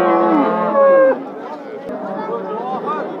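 A cow gives a loud, drawn-out moo at a busy livestock bazaar in Beshariq, followed by crowd chatter and people talking nearby.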